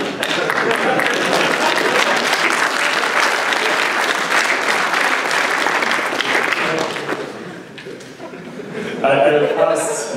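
Conference audience at a Python programming talk applauding and cheering loudly, a dense sustained wave of clapping that dips briefly near the end before swelling again, with some voices and laughter mixed in.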